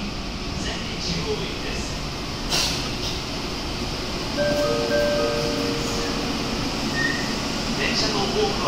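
An Osaka Metro subway train pulls up at a station platform, a steady loud rumble and hiss of wheels and air that swells slightly midway, with faint voices and a few soft tonal chimes mixed in.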